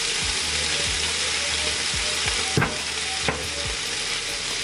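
Cauliflower fried rice with ginger sizzles steadily in a hot pan while a utensil stirs it, giving a loud continuous frying hiss with a few scraping knocks against the pan and no voices.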